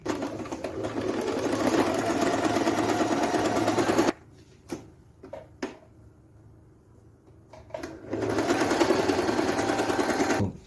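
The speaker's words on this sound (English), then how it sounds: "Let's sew it now." A sewing machine stitches fabric for a senator's cap, running in a steady loud whirring burst, then pausing with a few clicks and handling sounds before whirring again at full speed.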